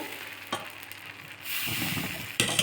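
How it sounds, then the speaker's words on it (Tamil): A ladle of appam batter hits a hot appam pan and breaks into a steady, close sizzle that holds for about a second, with sharp clinks of the ladle or pan before and after it. "இப்போது நல்லா ஒரு கரண்டி மாவு ஊற்றிட்டு"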